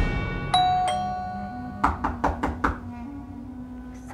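Five quick knocks rap sharply on a door, close and distinct, after a two-note doorbell chime and over a soft musical background.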